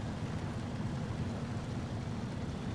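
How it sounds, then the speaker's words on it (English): Purple water splashing up in a video game, a steady broadband rush and spatter with a rumbling low end, continuous and fairly loud for the whole stretch with no voices over it. "purple water splashing up"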